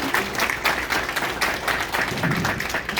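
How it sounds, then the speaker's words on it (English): An audience at a community event at a Toronto police college gives a round of applause, dense steady clapping from many hands filling the room for a few seconds without pause. "they deserve a round of applause."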